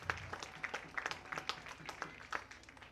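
Scattered clapping from a school event audience, a steady patter of many hands with irregular louder bursts, moderately distant.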